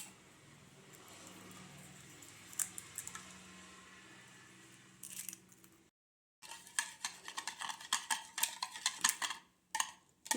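Eggs beaten in a bowl for caramel pudding give quiet, rapid whisking taps and clinks, with a short gap midway, then brisker, louder rhythmic beating strokes close by.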